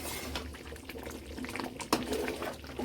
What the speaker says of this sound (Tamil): ஸோ நல்லா கொதிக்குது.